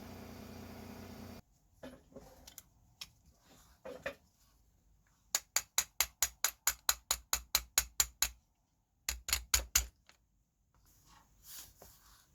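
Sharp metallic hammer blows strike a Honda K24 starter motor to free it, landing in two quick rhythmic bursts of about a dozen and then five close, loud taps, with quieter rustling in between.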